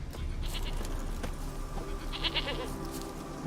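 Goat bleats several times in The Witcher 3, a close, nasal animal cry over a steady game background ambience, with no talking.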